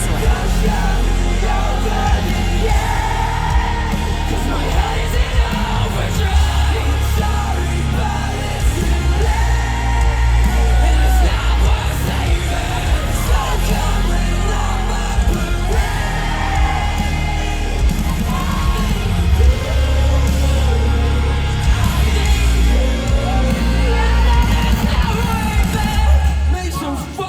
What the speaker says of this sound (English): You can also hear the crowd a lot better in this one.